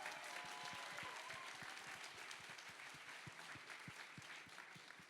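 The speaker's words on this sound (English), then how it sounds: "we should definitely give our panelists a little bit of a round of applause" Convention audience at a Minecraft event panel giving a round of applause, a dense wash of clapping with distinct hand claps, quiet and distant, fading slightly toward the end.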